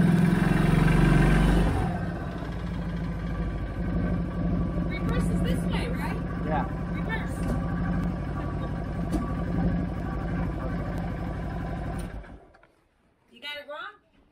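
A 2013 CFMOTO Z6 running after a fuel pump change: a loud steady engine rumble with revving that cuts out near the end, while people talk over it.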